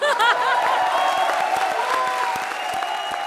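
Studio audience at a comedy show breaking into loud, sustained applause with a few whoops and chuckles mixed in, steady and dense throughout.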